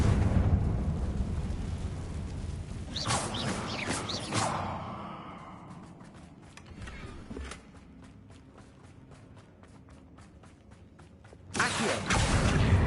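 A Confringo blasting spell goes off in a Harry Potter video game, giving a loud rushing burst that fades into crackling debris and scattered clicks, then a second loud surge near the end, with no talk.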